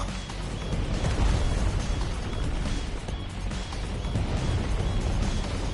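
A big explosion in the video game Final Fantasy XVI, a dense, loud, continuous roar of crashing and rumbling debris that holds strong low-end weight for several seconds with no clear break.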